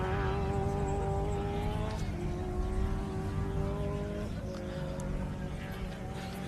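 At a motor race start, a race car engine screams at high revs near the limiter. The strained note dips slightly at a couple of points and holds loud and steady against a busy trackside background.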